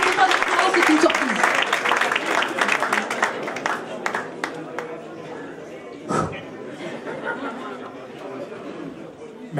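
At an awards ceremony in Mali, an audience claps for an award winner in a loud, dense burst that thins into chatter and scattered claps, with voices talking throughout.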